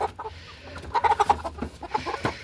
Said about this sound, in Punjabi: ਆਪਣੇ ਤੋਂ ਮੁਰਗਾ ਨਹੀਂ ਫੜਿਆ ਜਾਂਦਾ